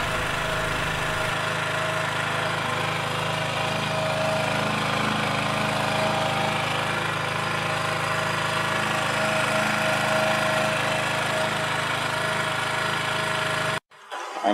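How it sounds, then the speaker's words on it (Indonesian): A Sumura petrol generator runs loud and close in a steady, unbroken drone with a rough mechanical clatter, cutting off abruptly near the end. "Ini adalah gensetnya, merek Sumura."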